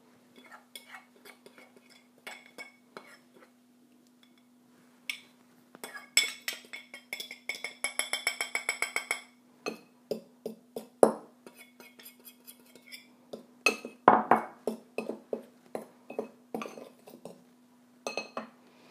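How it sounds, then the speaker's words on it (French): A utensil whisks and clinks against a bowl while rice flour and arrowroot are mixed, in bursts of rapid, close tapping and scraping separated by short pauses. "Je vais commencer par mélanger la farine de riz avec l'arrowroot"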